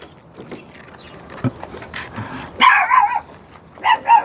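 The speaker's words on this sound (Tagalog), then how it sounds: "Tahol-tahol pa kayo." A few dogs nearby give sharp yips and short barks, some high-pitched and whiny, in scattered bursts with quiet gaps between.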